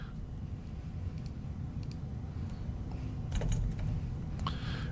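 Soft, scattered keystrokes on a computer keyboard tap faintly beneath a steady background hum, a short burst of typing heard up close but quiet.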